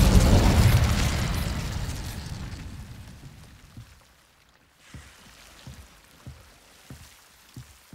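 The Incendio fire spell is cast in Hogwarts Legacy: a loud fiery burst erupts and roars, then fades over several seconds, followed by a string of softer pops and crackles.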